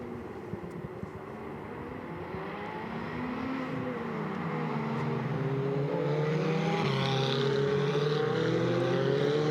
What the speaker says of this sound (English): some of the cars weaving from side to side to trying to maintain some temperature into the tyres ahead of when the race will resume